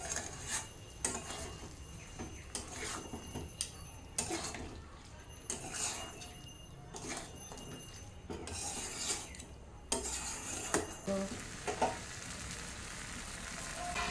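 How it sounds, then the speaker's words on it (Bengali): Pieces of fish for a fish curry fry and get turned in a pan, a soft continuous sizzle punctuated by repeated clanks and scrapes of a spatula against the pan, fairly quiet and without talk. "মাছগুলি দিয়ে একটু কষিয়ে নেব"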